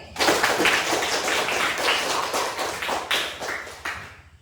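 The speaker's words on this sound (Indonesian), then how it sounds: "Berikan tepuk tangan sekali lagi." Applause from a classroom audience at a school presentation: a dense, steady wash of many hands clapping for about four seconds and tapering at the end, fairly close and clear.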